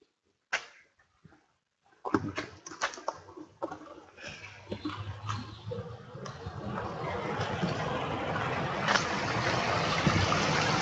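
A small babbling stream flows outdoors on a morning walk. After a few handling knocks and near-silence, a steady broadband rush of running water builds and holds to the end.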